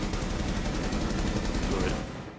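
In a shooter video game, dense automatic gunfire comes through a wall as a sustained, loud rattle of rapid shots that fades at the end.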